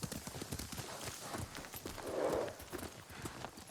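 Horse hooves clop in a steady walking rhythm, close and clear, with a brief snort or whinny midway, in the video game Ghost of Tsushima.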